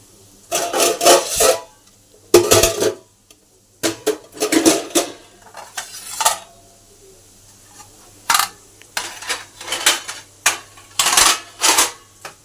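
Freshly washed metal kitchen utensils clink and clatter as they are stacked back in place, in separate close bursts of rattling with short quiet gaps between.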